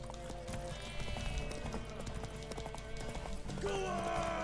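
Horse hooves galloping in a video game, a steady clip-clop rhythm up close, with a horse whinny near the end and players talking over the action.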